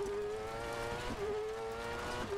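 Rear-wheel-drive cross kart engine in the Dirt Rally 2.0 racing game, a loud, steady high-pitched buzzing drone held at near-constant revs, with brief dips as it shifts, close and continuous throughout.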